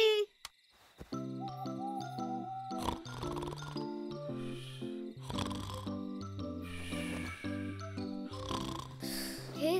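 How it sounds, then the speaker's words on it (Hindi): Cartoon grandfather snoring loudly at bedtime, with a stylized, tonal wheeze and whistle rising and falling in a steady rhythm over a musical backdrop, with no talking. "दादाजी खर्राटे मारना बंद कीजिए।"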